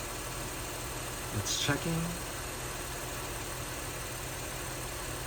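A car engine idles with a steady, faint, low hum during an alternator check, while a person speaks briefly over it.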